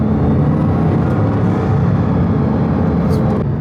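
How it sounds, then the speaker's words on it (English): A Bugatti Chiron Pur Sport running inside, its engine giving a loud, steady low rumble with a constant drone throughout and a faint higher whine near the end. "I'm just gonna let the car do all the talking because I don't know if you guys can hear it."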